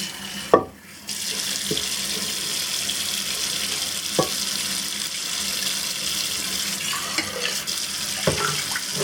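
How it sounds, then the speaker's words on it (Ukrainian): Tap water runs steadily into a sink while meat is rinsed under it, a close continuous splashing hiss broken by a few soft knocks and clatters. "Оцей весь бруд промиваємо."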